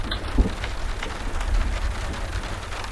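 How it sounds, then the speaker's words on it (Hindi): Steady rain falls in a scene from a Hindi-dubbed horror film, a continuous broadband hiss with faint low rumbles beneath and no talking. "हाँ, बारिश होने वाली है"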